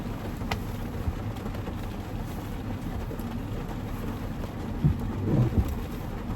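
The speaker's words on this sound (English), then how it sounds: "it's raining" Steady rain falls outdoors, a continuous soft wash of drops with faint low rumbles underneath and a few louder bumps and rustles near the end.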